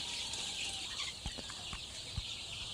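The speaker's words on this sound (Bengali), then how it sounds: "এইখানে দেখতে পাচ্ছেন মুরগি বাচ্চা আছে, এখানে 500 মুরগি বাচ্চা আছে।" About five hundred 11-day-old chicks in a poultry farm brooding shed, their soft peeping and clucking rising faintly over a steady hiss of background noise, with a few brief louder chirps.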